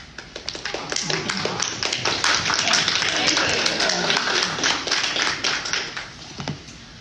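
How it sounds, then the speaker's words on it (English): An audience rises to give a round of applause after a community talk, scattered claps swelling into a steady burst and then thinning out, with some voices underneath. "please stand and give yourselves a round of applause for being such an amazing audience"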